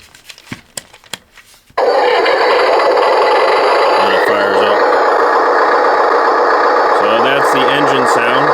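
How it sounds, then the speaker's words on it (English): Simulated engine sound from a 1/24-scale Diecast Masters RC CAT 745 dump truck, switching on abruptly and running as a steady, loud electronic drone with a couple of brief pulsing revs, close up. "That's the engine sound."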